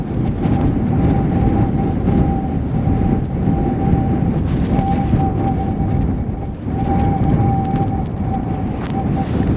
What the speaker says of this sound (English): we're getting our takeoff finally after the long wait